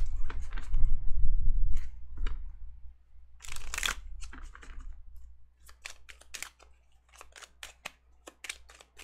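Tarot cards are shuffled in a series of quick, dry riffling snaps and clicks, close and fairly soft, coming in irregular bursts after a brief low murmur at the start.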